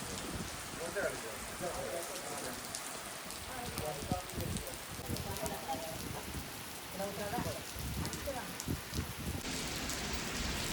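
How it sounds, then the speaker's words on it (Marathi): Monsoon rain at Malshej Ghat, heard from under a cliff overhang: a dense, even hiss of falling rain that holds steadily throughout. "समोरा पाऊस तुम्हाला दिसतोय"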